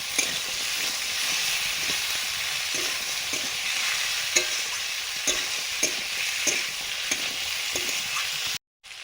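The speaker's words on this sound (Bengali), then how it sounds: "এবারে পেঁয়াজের সঙ্গে আলুটাও ভাজা হবে" Potatoes and onions fry in a pan, giving a continuous bright sizzle with regular soft scraping knocks as a utensil stirs them, and a short drop to silence near the end.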